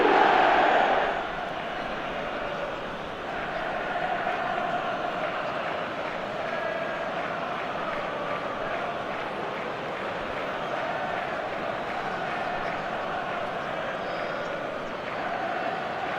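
A packed football stadium crowd roars after a goal, starting with a loud surge and settling into a sustained, dense wall of cheering and chanting that carries on steadily without a break.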